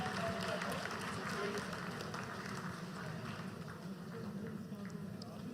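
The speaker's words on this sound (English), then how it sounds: "आप तालियों के गड़गड़ाहट से सुन सकते हैं" Sustained applause and cheering from a crowd of Indian scientists in a mission control room as Chandrayaan 3 enters its vertical descent landing phase, a continuous roar of clapping with voices mixed in.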